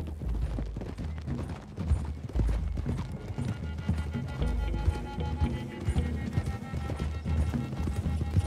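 Rapid galloping horse hoofbeats in Red Dead Redemption 2 clatter steadily throughout, loud and close, with a low rumbling backdrop.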